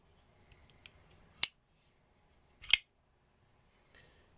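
A Microtech Socom Elite knife snaps its blade out in two sharp, crisp clicks a little over a second apart, close and alone against near silence with a few faint ticks around them.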